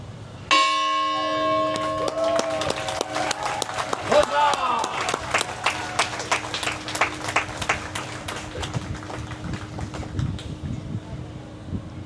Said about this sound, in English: please ring the bell for the 14th time